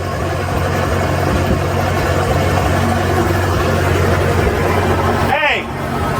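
An old Massey Ferguson backhoe's engine runs steadily on cloudy gas, a loud, close, even drone throughout, with a brief voice near the end.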